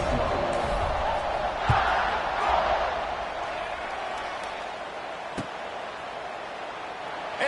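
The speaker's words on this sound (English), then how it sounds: "this crowd is buzzing after that last score" A large crowd at an American football stadium fills the air with a steady, far-off roar after a score, broken by a few sharp thumps and one louder cheer near the end, with no talking.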